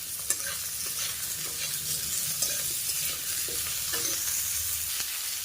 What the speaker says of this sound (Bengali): পেঁয়াজটা একটু ভাজা করে নিয়ে এবার এখানে দিয়ে দেব মাছের ঝোলে কেটে রাখা আলু।